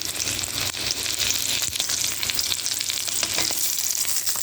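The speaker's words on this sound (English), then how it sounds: "So next we're going to do is sear our beef. Not beef, our lamb, on all the sides." Lamb sears in a hot pan with a loud, continuous crackling sizzle and occasional spatters, close up and with no talking.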